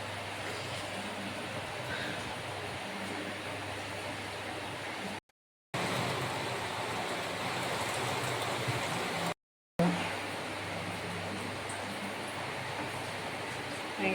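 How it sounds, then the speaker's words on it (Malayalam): Heavy rain pours steadily as a dense, even hiss through a Kerala kitchen scene while a coconut, turmeric and shallot mix is crushed for thoran, broken by two brief silent gaps. "ഭയങ്കര മഴ."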